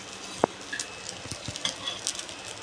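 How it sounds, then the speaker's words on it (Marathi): Oil crackles softly in an appe pan for rava-potato appe, with a faint sizzle, a sharp utensil tap near the start and small scattered pops, quiet and close, with no talking. "थोडं तेल टाकू."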